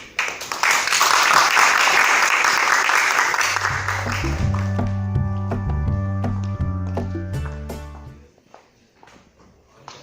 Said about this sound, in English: So just a brief applause for all of them.